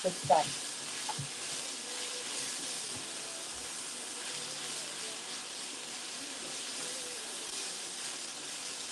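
Onions frying steadily in a pan give off a soft, continuous sizzle and hiss, with a few small clatters at the start and no talking over it.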